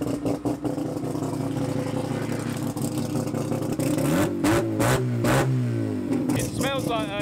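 A small race car engine revs up and down repeatedly at close range during a test and tune day at Santa Pod Raceway, its pitch sweeping upward in bursts over continuous mechanical noise.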